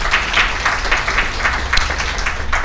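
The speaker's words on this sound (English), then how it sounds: "please give them a round of applause." A steady round of applause from the audience at a corporate investor briefing, dense continuous clapping at an even level with no talking over it.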